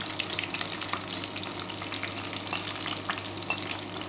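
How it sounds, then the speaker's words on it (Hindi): Chopped onions fry in oil for bhuna chicken, a dense, steady sizzle with faint stirring scrapes, close up and constant throughout with no voices. "इसे अच्छी तरह से गलने तक और इसका जो कलर है वो थोड़ा सा गोल्डन होने तक जो है मैं इसे भून लूँगी"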